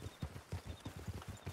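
Horse hooves clip-clopping in Red Dead Redemption II, a steady quick rhythm of soft, muffled hoof falls at a moderate distance, fairly quiet and alone.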